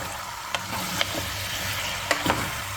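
Steady sizzling of beef frying on high heat in a hot pan for pulao, with a few sharp pops and the scrape of a stirring utensil.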